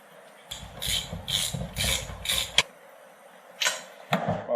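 A torque wrench tightens the spark plug on a Ryobi S430 four-cycle lawn trimmer, giving a run of about five close rasping ratchet clicks, a pause, then two more short ratchet bursts.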